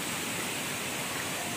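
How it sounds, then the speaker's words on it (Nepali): A small hill stream swollen with monsoon rainwater rushes in Sikkim, giving a steady, dense roar of flowing water with no pauses. "बर्खाको कारणले पानी चाहिँ एकदम बेसी नै छ यो खोलामा पनि"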